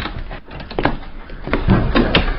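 A door slams shut with a couple of sharp knocks and rattles, fairly close and alone, with no voices.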